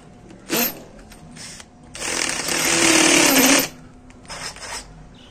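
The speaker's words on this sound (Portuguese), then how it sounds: "Agora nós pega a broca de 10 para fazer esse transpasse aqui." Wap K21 21V cordless drill spinning a 10 mm bit: a short whirring burst, then a longer, loud grinding run of about a second and a half, followed by a brief final spurt, with quiet gaps between.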